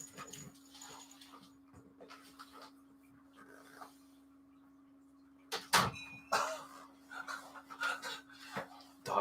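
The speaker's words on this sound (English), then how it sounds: "Dog's getting into everything over here." A dog rummages through things nearby, with soft panting and whimpering over a steady electrical hum, then louder bursts of clattering and shuffling toward the end.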